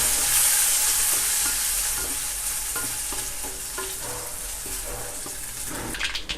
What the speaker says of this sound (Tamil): கூட சிறிதளவு இஞ்சி, பெருங்காயத்தூள், கருவேப்பிலை சிறிதளவு சேர்த்து நல்லா வதக்கிக்கோங்க.